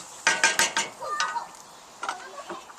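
Little neck clams and andouille sausage tumble into a sizzling chicken and seafood paella pan, giving a quick series of clattering, scraping stirs over a soft frying hiss, fairly close and moderately quiet.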